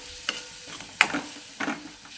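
Spoon stirring red chili powder into drumstick vegetable frying in a pan: three brief scraping strokes over a faint sizzle, close and quiet.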